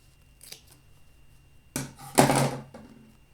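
Scissors trimming fabric on a skirt waistband during sewing, a faint snip early on, then two loud, close crisp cuts in quick succession after a pause.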